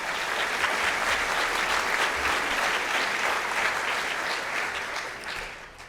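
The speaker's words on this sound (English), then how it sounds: "Let's please give them all a round of applause." Theater audience applauding at an academic lecture event on learning and memory, a dense, steady wash of many hands clapping that holds strong, then gradually fades toward the end.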